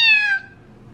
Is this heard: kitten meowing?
yes